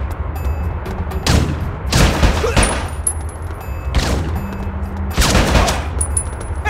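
Loud gunfire in the video game Bad Boy II, several heavy bursts of shots roughly a second apart, crackling over a constant low rumble of background game sound.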